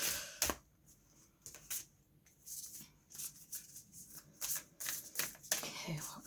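A Sufi wisdom oracle card deck being shuffled close by, quiet riffling flutters and soft card slaps in irregular bursts, with faint breathy voice sounds between them.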